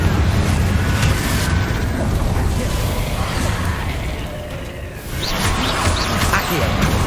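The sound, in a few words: Confringo spell explosion in a Harry Potter video game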